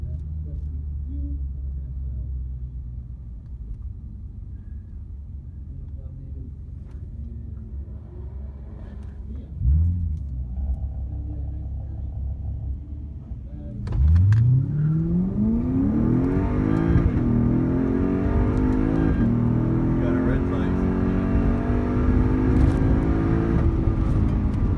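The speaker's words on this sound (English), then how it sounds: "Cadillac ATSV." A Cadillac ATS-V starts with a low idle rumble, then a sharp engine blip, and launches into a loud, sustained acceleration whose pitch climbs steadily through the gears, close and powerful to the end.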